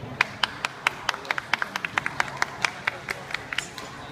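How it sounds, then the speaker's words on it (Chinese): Steady rhythmic clapping from a modest audience at an FCI dog show ring, sharp distinct claps at an even pace, moderately close, with faint background murmur. "请各位热烈的鼓掌。"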